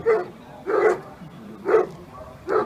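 Hunting hounds barking during a demonstration of hunting with hounds, four sharp barks in an irregular rhythm over a few seconds, fairly close and loud.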